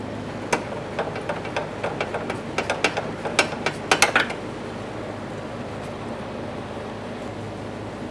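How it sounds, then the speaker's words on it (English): A ratchet and socket loosen the 12mm mounting bolts on the fuel filler neck of a 1992-1996 Toyota Camry. Close, sharp clicking comes in quick bursts for about four seconds, then only a low steady hum remains. "Now let's start removing our 12mm mounting bolts."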